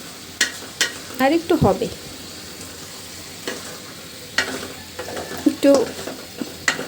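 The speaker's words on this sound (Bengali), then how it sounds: "নাড়া দিয়ে দিলাম" Fish curry with bottle gourd stirred in a pan, a few scraping spoon strokes and soft sizzling in bursts, close and fairly quiet, with brief talk in between.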